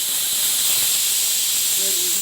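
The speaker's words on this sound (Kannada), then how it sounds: "2 ವಿಸಿಲ್ ಬಂದಾಯಿತು." A pressure cooker steams with a loud, steady hiss while jeera rice cooks, close by, with a faint tonal whistle rising near the end.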